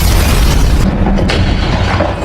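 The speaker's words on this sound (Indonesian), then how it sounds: "Bishop malah meledakkan dinding yang membuat Ray dan Thomas harus terpental" A loud explosion blasts through a wall in an action film, a heavy booming rumble that fills the clip with dense low-end roar and debris noise, sustained and close.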